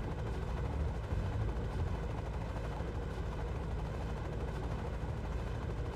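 Apache attack helicopters in the real-time strategy game Act of War: Direct Action, a steady, dense rotor and engine drone held at an even level throughout, with faint battle noise mixed in.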